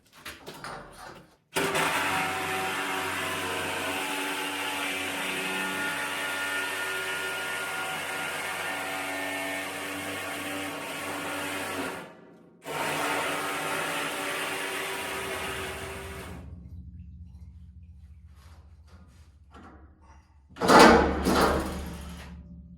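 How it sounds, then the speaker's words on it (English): A Sawzall reciprocating saw cuts into a steel fuel oil tank with a loud, sustained buzzing grind in long bursts separated by brief pauses, ending with a sharp clanking burst of metal. "I'm going to keep cutting here for a minute, and then we'll readjust this tank a little bit"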